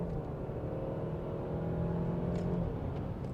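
An Alfa Romeo Stelvio TI Sport with a small four-cylinder engine pulls hard in third gear after a downshift, a steady engine drone with rising harmonics heard from inside the cabin, with no talking.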